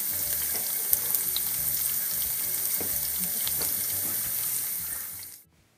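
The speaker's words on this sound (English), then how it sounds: "Heat 5 to 7 tablespoons of oil. Then you add 1 chopped onion, 3 cinnamon sticks, 3 elaichi pods and 3 anises." Chopped onion, cinnamon sticks, cardamom pods and anise sizzle in a few tablespoons of hot oil, a steady bright crackle and hiss close by that cuts off abruptly at the end.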